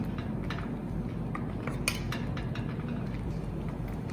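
Mac and cheese sauce stirred in a pan with Worcestershire sauce added, soft scraping and light clinks of a utensil against the pan over a steady background hiss, fairly quiet and continuous.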